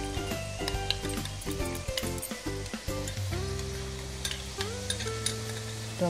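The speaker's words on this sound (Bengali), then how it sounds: "এবার এর মধ্যে আমি টক দইটা দিয়ে দেবো।" Beaten sour yogurt mixed with a little salt hisses in a hot pan for a Bengali paneer dish. A spoon scrapes and clatters in an irregular rhythm as it stirs through the steady sizzle.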